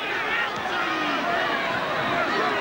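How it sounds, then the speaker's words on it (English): Rugby league crowd at a 1993 New Zealand versus Australia test, loudly voicing disapproval of a high tackle, a dense continuous roar of booing and shouting, with other voices mixed into the din. "Crowd do not like it."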